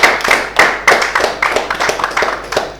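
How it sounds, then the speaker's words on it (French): A talk-show audience claps in quick, sharp bursts, the applause close and lively with an uneven, pulsing rhythm. "On va applaudir encore."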